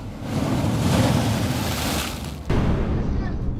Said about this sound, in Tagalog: Bagyo talaga, masama yung panahon.